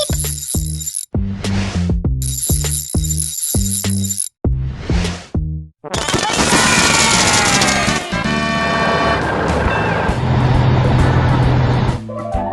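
A cartoon fire truck from a build-and-repair vehicle game gives a few loud, bright, tonal horn beeps in short bursts, then busy, full music and motor-like sound take over.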